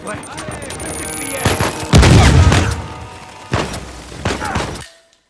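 Pump shotgun fire in a video game: loud, booming blasts with a heavy shot around the middle and more bursts after, over a continuous game soundscape.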